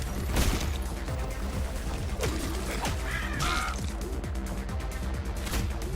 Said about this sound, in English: What is up with the damn crows?